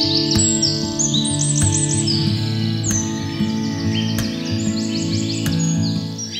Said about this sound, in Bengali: এসব পাখি এত ডাকছে কেন,